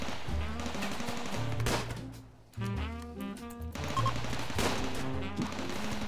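Automated turrets in the Rimworld video game fire at charging attackers, with rapid bursts of mechanical gunfire, a brief lull midway, then renewed rattling shots.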